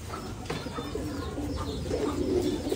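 A pair of pigeons coo softly at close range in a poultry-keeping setting, with low, repeated throaty coos over a noisy background of rustling and handling sounds.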